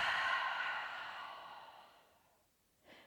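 A long, soft breath out through the mouth during a yoga flow, fading over about two seconds, followed by a short quiet inhale near the end, with no talking.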